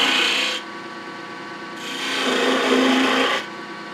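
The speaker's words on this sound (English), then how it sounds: "I'm going to switch to a little smaller detail gouge, make it just a little easier to cut that coat." A small detail gouge cuts into a spinning wooden birdhouse ornament on a lathe, producing two close, steady bursts of scraping and rasping with a quieter machine hum in the pause between them.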